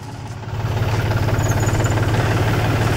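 A tractor pulling a mulching paper laying machine between field furrows on stony ground, its engine giving a steady, close, low diesel drone that rises slightly in level after the first half second and holds even throughout.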